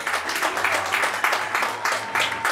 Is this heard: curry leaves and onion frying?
no